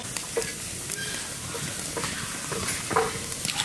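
Oil heats in a kadai wok over an outdoor village cooking fire, giving a steady, close sizzle with faint crackles and occasional stirring clinks throughout.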